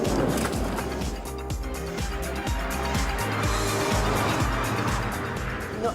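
An Alfa Romeo 147 GTA hot hatch with a 250-horsepower 3.2-litre V6 is driven hard, giving a loud, continuous throbbing engine roar with shifting revs and road noise throughout.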